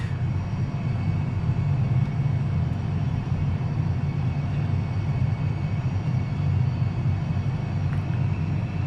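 Airliner engines hold climb thrust after takeoff on a flight from Tehran to Ankara, producing a steady, loud, low rumbling drone that stays even from start to finish.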